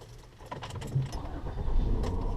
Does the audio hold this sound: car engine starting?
yes